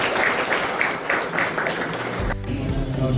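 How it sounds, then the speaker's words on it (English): Audience applause opening a fifth-semester metallurgical engineering project seminar session, a dense wash of clapping that fills most of the clip before dropping sharply, with a low rumble and faint room murmur after. "let us start this session with a big round of applause"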